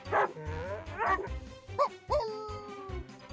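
A puppy barks and whimpers in short yips and bow-wows in a game setting, several quick calls close up and fairly quiet.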